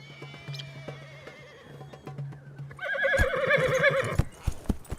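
A horse in a Turkish warrior film, dubbed into Hindi, gives a loud shaky whinny partway through, followed by heavy hoof thuds and clip-clops. A lower droning tone and faint hoof sounds come first.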